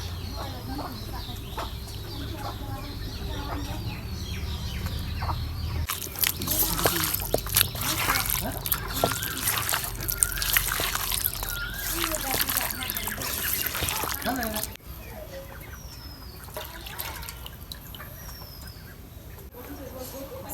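Broiler chicken meat being mixed by hand with mustard oil in a village kitchen, giving wet squelching, sloshing and dribbling sounds that grow busier and louder midway, with rooster and bird calls in the background.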